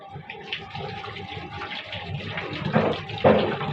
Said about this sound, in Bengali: আর এই যে এরকম এটা ঘোরালে জল পড়বে, তারপর এটা আবার ওদিকে ঘোরালে বন্ধ হয়ে যাবে।